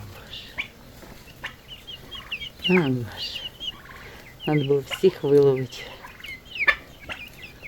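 Chickens and chicks cluck and squawk in bursts, with a young rooster's call rising among them, while someone speaks briefly over the flock.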